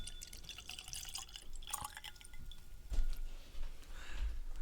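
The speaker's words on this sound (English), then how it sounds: "I accidentally dripped some on my cheat sheets here" Whisky, a pale straw Compass Box Peat Monster blended Scotch, drips onto paper sheets, making soft faint patters and small taps with light clinks over a quiet room background.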